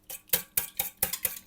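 Egg whisked into matsoni in a pot: quick, regular scraping strokes of a whisk, about four per second, close and fairly soft, with no talking.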